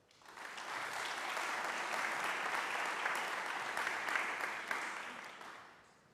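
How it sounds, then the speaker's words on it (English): A concert-hall audience applauds at the opening ceremony of an international voice competition, the clapping building quickly, holding as a thick even wash for several seconds, then tapering off at the end. "So let's please give them a round of applause."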